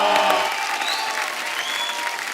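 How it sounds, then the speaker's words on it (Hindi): Loud, steady applause from a TV comedy show studio audience welcoming a singer, continuous clapping throughout with a few whistles rising above it. "आप सबकी जोरदार तालियों के बीच प्लीज वेलकम"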